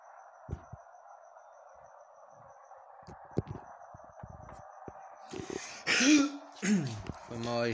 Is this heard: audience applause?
no